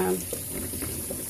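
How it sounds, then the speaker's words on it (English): Tap water runs into a sink, a brief steady splashing hiss with a voice heard at the start. "get some water running there"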